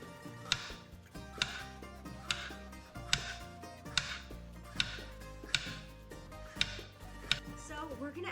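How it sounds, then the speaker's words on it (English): A knife slices lettuce very thinly, producing about a dozen crisp, evenly spaced chops against a board in a steady rhythm. The cutting is quiet, close and set over soft background music. "we are once again going to cut these very, very thinly"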